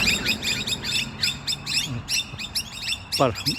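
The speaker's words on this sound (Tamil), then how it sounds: "மேலே பறவைங்க கடவுள் பண்ணது." Birds chirp overhead at a roadside: rapid, repeated bright tweets come close and loud throughout, with a brief squawk near the end.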